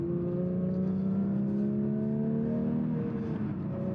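Manual Porsche 992 GT3 climbing an Alpine road, its engine note rising steadily in pitch as it accelerates through a gear, loud and continuous from inside the car with no talk.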